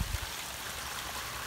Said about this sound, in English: this will come gushing out and raise the water level